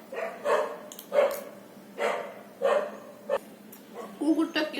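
A dog barks in a steady series of six or seven sharp barks about a second apart, close and clear, ending in a quicker cluster of yips.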